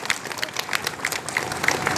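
Audience applause at a Republic Day event in India, a steady patter of many hands clapping at moderate distance with crowd murmur and occasional voices mixed in.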